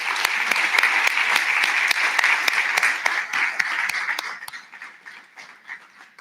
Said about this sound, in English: give yourselves all a round of applause for surviving until 12 o'clock and your participation